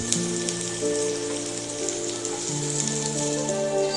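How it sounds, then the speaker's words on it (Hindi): Chopped onion frying in a pan with garlic for spicy vegetable Masala Maggi noodles, a steady close hiss and sizzle with no pauses, heard alone under soft background music. "ये रखि पियाज को पकईदे"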